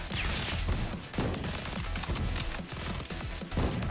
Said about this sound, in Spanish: Están pegando cañonazos solo de delante